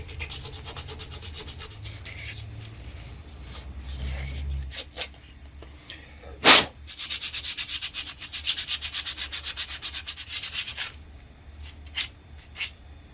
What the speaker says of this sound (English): So I have a little heavier grit sandpaper.